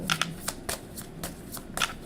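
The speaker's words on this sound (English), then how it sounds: "Look at it, shuffling and shuffling and shuffling." A deck of tarot cards is shuffled in quick, soft riffles, several short bursts in a row, close by and fairly quiet.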